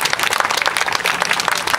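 Dense, lively applause from a pop concert audience fills the space continuously, a loud, close wash of many hands clapping with no pauses or talk.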